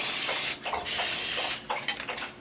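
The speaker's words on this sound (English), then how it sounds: "I'm going to spray my little waffle iron that I have" Cooking spray hisses from a can onto a small waffle iron in two bursts, each about a second long, loud and close, with a short gap between them and no talk.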